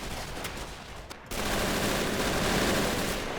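MG42 machine guns and other weapons firing in Men of War: Assault Squad 2 during a mass Russian assault on German trenches, a dense, continuous rattle of distant automatic fire that jumps louder and fuller partway through.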